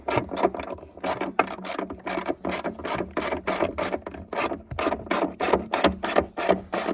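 A small-handle ratchet clicks in quick, regular bursts while tightening a car battery terminal on a 2015 GMC Acadia, the close, crisp pawl ratcheting repeating steadily with brief pauses between strokes.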